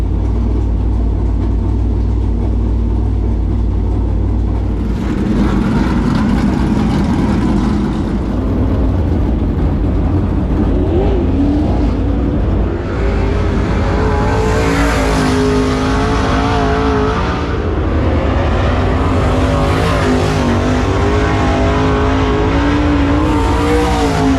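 Dirt late model race cars roar around Smoky Mountain Speedway on a slick track, engines loud and continuous, revving and accelerating as the pack passes, with occasional tire squeal and no talk.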